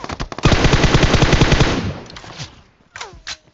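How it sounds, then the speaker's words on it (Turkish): Automatic gunfire in the mobile battle royale game PUBG Mobile, a loud rapid burst of shots lasting over a second, fading into echo, followed by a couple of fainter single shots. "Arkada sıkıyor."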